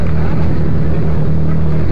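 A motorcycle engine idles close by with a steady low throb, loud and continuous.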